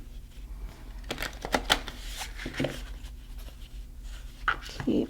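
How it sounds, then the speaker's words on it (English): Tarot cards being shuffled by hand, a run of soft riffling and tapping bursts at close range, fairly quiet over a low background hum. "as I'm shuffling"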